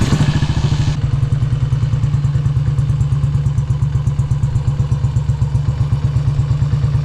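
A 1967 BSA motorcycle, just kickstarted, runs with a loud, close, rapid, even thumping beat that holds steady throughout with a mechanical clatter on top.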